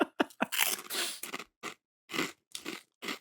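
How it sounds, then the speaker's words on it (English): Loud, close crunching as spicy kettle-style chips are bitten and chewed, sharp irregular bursts in quick succession, then spaced crunches with short pauses between. "That was crunchy."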